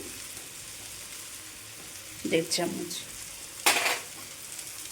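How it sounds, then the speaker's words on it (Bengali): Ground spices, including turmeric, red chilli and cumin powder, fry in a pan with a soft sizzle, broken by two louder bursts of stirring and scraping. A brief voice is heard near the start. "এবার এই যে মশলাগুলো এরকম ভাজা ভাজা হয়ে গেলে সামান্য একটু জল দিয়ে ভেজে নিতে হবে"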